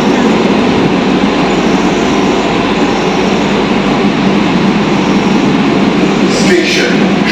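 A metro train runs loud and close at Satyajit Ray metro station, its steady broadband roar and rumble filling the space throughout, with a brief higher hiss near the end.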